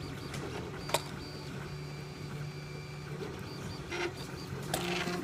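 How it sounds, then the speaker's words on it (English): A 3D printer prints a camera mount, its stepper motors whining in steady tonal runs with small clicks and shifts in pitch, close by and without talk. "And then right now I'm actually printing, that's a camera mount"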